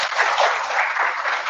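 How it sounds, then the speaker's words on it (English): A crowd at an AWS user group meetup gives a short, loud burst of dense, continuous applause that stays even for its full length and ends abruptly. "Can we have a round of applause, please?"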